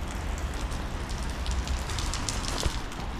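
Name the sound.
rain falling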